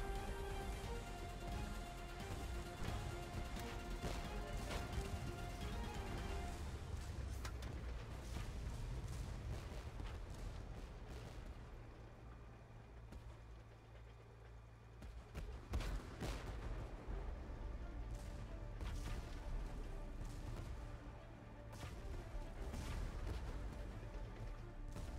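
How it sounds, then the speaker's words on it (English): A tank battle in the Tank Force video game, with dense rolling gunfire and booming cannon blasts that keep going the whole time, fairly faint in the mix. "Under gunfire!"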